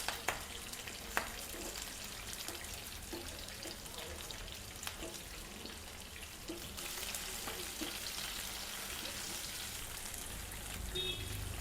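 Onion and capsicum sizzle steadily in a hot pan while chicken lollipop is being cooked, with a continuous crackling fry and occasional stirring clatter close by, no talk over it.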